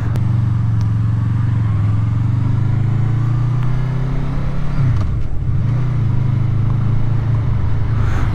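Honda VFR800F V4 motorcycle engine droning steadily while riding, with a dip in pitch and a brief lull around a gear shift before the note resumes; loud and continuous throughout.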